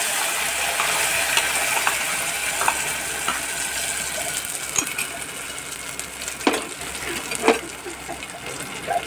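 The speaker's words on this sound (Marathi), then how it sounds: "मसाला चांगला तेलात परतून घ्यायचा" Spice masala frying in oil for a chana dal saar (amti), after onion, coconut and curry leaves: a continuous close sizzle with occasional sharp spatula taps and scrapes, and no speech.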